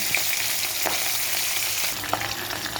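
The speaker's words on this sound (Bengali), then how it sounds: "মাছটাকে ভালো করে ভেজে নেব" Fish frying in hot oil in a pan, a steady close sizzle with a few brief clicks or bursts of spattering, no talk over it.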